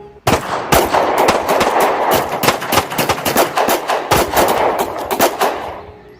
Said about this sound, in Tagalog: Muling umalingaw-ngaw ang putukan.